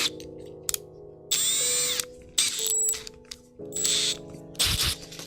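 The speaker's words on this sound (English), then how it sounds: "you kind of just drill through the magnet from the back" A drill bores through a magnet from the back while electronics are fitted to a 3D-printed build, whining in several short bursts with pauses and clicks between them.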